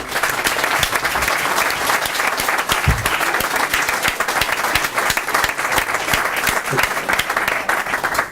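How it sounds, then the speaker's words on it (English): A meeting audience of supporters applauds after a unanimous vote, with steady, dense clapping that stays fairly loud and even for about eight seconds, without speech over it. "So round of applause, I think,"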